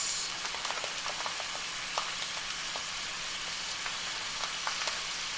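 Rice sizzling and frying in hot oil with softened onions in a pan for chicken risotto, a steady crackling hiss with scattered pops throughout, close and moderately loud with no talking.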